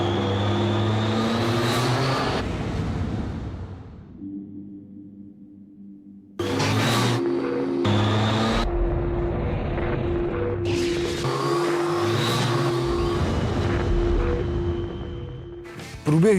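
A Triumph Tiger 800 motorcycle rides past with a rising and falling engine note, loud and close at times, broken by quieter gaps as the sound cuts between passes.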